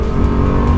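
A Bugatti Chiron with an 8-litre two-stage quad-turbo engine roars at speed on the Nürburgring Nordschleife, a loud, dense, low engine drone heard from inside the car over a brief moment.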